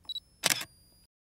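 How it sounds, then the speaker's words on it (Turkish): DSLR camera shutter release pressed while photographing a waterfall on a timer: two short beeps, then a sharp, close mechanical shutter snap with mirror clatter, followed by quiet. "Yine deklanşöre basıyoruz."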